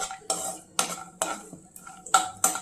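Dry fruits stirred in hot ghee in a pan, with a spoon scraping and clinking against the metal in several distinct strokes, close and moderately loud, a faint sizzle underneath and no talking.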